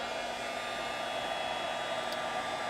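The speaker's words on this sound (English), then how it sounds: "the way the heat is directed out of a heat tool, it's very directional" A heat embossing tool blows hot air onto embossing powder for holiday card making, a steady, loud, even whooshing hiss with a high whine, alone with no talking.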